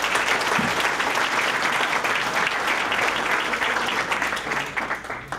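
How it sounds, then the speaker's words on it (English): An audience at a Chamber of Commerce installation gives a round of applause, steady and full for about five seconds before thinning out, with no talking over it. "Let's give them a round of applause."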